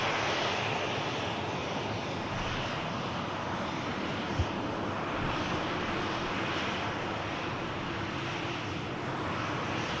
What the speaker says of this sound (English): And the Pegasus just taxiing past in front.